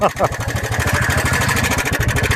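A motorcycle with a reported engine fault runs at idle, its engine thudding in a steady, quick pulse close by with faint voices over it.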